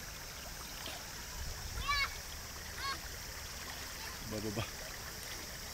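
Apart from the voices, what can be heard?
water splashing into a boat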